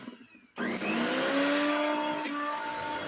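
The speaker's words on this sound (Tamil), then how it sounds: "மிக்சியில் போட்டு அரைச்சிக்கலாம்" A mixer grinder blends fried onion and garlic into a paste: after a brief quiet moment the motor roars up and holds a loud, steady whine to the end.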